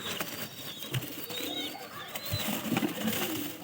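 Pigeons coo in low, rolling phrases up close while sharp little taps of pecking break in now and then, set against a busy background with faint chirps.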